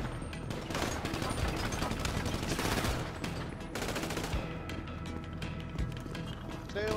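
Rapid AK rifle bursts in a first-person shooter video game crackle loudly and almost without pause, with a brief lull partway through, while a player talks over the shooting.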